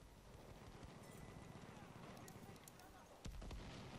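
Horses galloping in the video game Battlefield 1, a continuous low rumble of hoofbeats with a sharper thump near the end.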